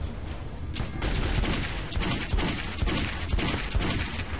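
Sustained gunfire in the Metro 2033 video game: rapid, loud overlapping shots crackle continuously through the whole stretch with no pauses.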